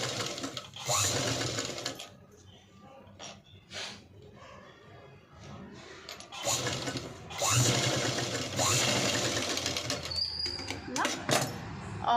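A sewing machine stitches fabric for back dori hangings in loud close runs, pausing briefly between them, with a voice heard at times.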